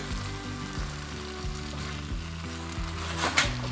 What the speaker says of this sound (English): just let it cook there until the prawns are cooked